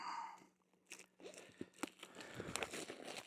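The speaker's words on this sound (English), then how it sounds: "Let's see if we can open this up without slicing open the whole box" A cardboard box holding cordless electric scissors being pried open, with crinkling, tearing and sharp crunching snaps of cardboard and packaging in quick irregular bursts, close and fairly quiet, no talking.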